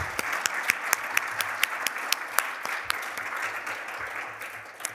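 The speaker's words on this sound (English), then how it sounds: "a round of applause." A conference audience gives a light round of applause at a closing plenary session, with scattered individual claps standing out sharply over a soft, steady patter that stays fairly even throughout.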